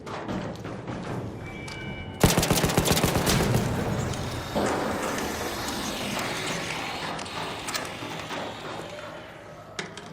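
Gunfire in the video game ARC Raiders, a sudden burst of rapid shots at close range firing at a target, then settling into ongoing game noise with scattered impacts.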